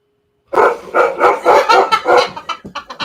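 Loud, close dog barking in a rapid steady series, about a dozen sharp woofs that begin suddenly and quicken toward the end, with no other sounds around them.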